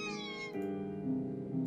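A single drawn-out cat meow in the video game The Last Door, close and fairly quiet, with a wavering tonal pitch.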